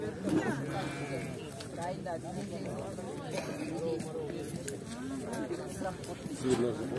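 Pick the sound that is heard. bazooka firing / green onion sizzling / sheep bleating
sheep bleating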